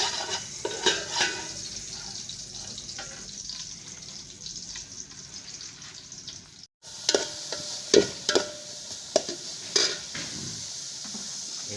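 Onion, garlic, ginger and a few chili pieces saute in a pan for chicken tinola with bottle gourd, giving a steady close sizzle with scraping stirs and clinks of a utensil against the pan, broken by a brief pause.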